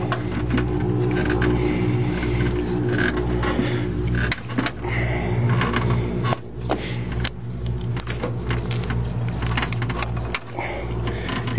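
A Ford 7.3 diesel truck cranks and cold starts on a marine battery with poor cables, a loud steady mechanical drone with rapid clattering ticks throughout, close and alone without talk.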